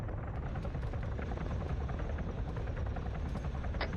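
Enemy Chiron helicopter from the Arma 3 video game landing at a forward operating base during a castle assault, its rotor thudding loudly and steadily throughout with a dense, droning roar and no talk.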